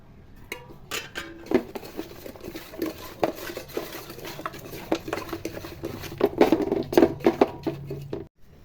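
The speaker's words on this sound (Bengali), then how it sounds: "এখন লবণ হলুদ মাখাবো।" Cut pieces of rohu fish being rubbed by hand with salt and turmeric in a bowl, giving close, soft wet squelching and patting with scattered light clinks against the dish, with no talking.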